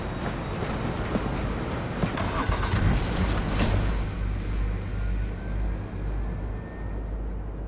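In Cyberpunk 2077, a car's engine turns over and revs as it pulls away, a mid-pitched motor hum rising and then settling into a steady drive for several seconds.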